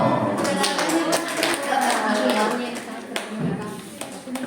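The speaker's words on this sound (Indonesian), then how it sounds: "Tepuk tangan dulu dong." Audience clapping hands at a community gathering, a few seconds of scattered, moderately loud applause from a small group with some voices mixed in.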